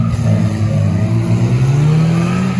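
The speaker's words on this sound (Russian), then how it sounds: "Такой звук неприятный. Это просто отсечка." Lada Niva off-road engine held on the rev limiter during an off-road trophy sprint, a loud, steady, buzzing drone with a choppy cutting pulse throughout, no talk over it.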